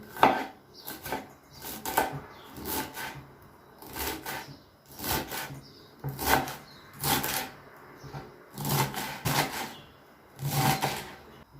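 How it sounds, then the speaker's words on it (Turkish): A knife chops purslane on a cutting board in quick bursts of rapid taps separated by short pauses, close and crisp. "Semizotlarımızı şöyle ince ince doğrayalım."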